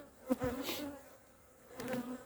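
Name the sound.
honeybees buzzing at the apiary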